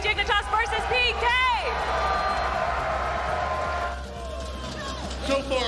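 Esports arena crowd at a SMITE World Championships quarterfinal, Dignitas versus Pittsburgh Knights, roaring and cheering loudly and steadily as game 3 begins, with whoops and shouts rising above the sustained din.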